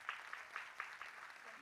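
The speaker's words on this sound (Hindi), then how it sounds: "तालियां बजती रहे." Faint rhythmic clapping from a preschool welcome event, a handful of distinct claps at a steady beat that fade toward the end, heard alone without talk.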